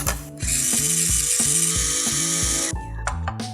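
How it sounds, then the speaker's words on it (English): Crispy fried pearl red onion chunks being ground in a small hand grinder, a loud, steady ratcheting crunch with a repeated clicking rhythm for about two seconds, then a few scattered crackles. "So they come in like chunks and I'm just grinding them."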